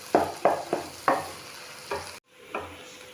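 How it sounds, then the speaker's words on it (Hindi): Dal frying with spices in a pan gives short scraping stirs with bursts of sizzle, about six strokes at an uneven rhythm, close and fairly loud, with a brief drop to quiet partway through. "ये हमारी दाल अच्छे से फ्राई हो गई है, इसमें मसाले भी अच्छे से पक चुके हैं।"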